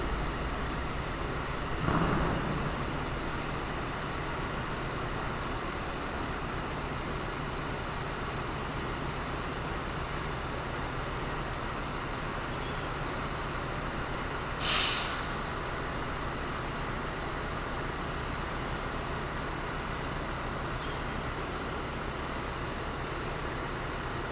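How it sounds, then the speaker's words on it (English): A loud truck passing close by gives a steady broadband rumble throughout, with a brief sharp air-brake hiss about two-thirds of the way in. "It's a loud truck right here."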